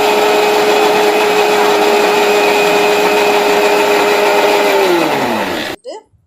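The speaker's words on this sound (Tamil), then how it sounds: "சாரில் போட்டு நல்லா மையாக அரைக்கணுங்க" An electric mixer grinder grinds herbs into a fine paste in its jar, a loud steady whirring motor drone that holds for about five seconds, then winds down in pitch and cuts off.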